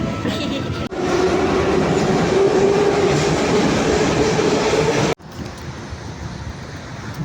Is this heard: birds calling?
no